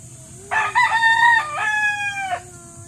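A Kelso gamefowl rooster crows once, loud and close, a long harmonic cock-a-doodle-doo of about two seconds that trails downward at the end, heard alone over quiet background.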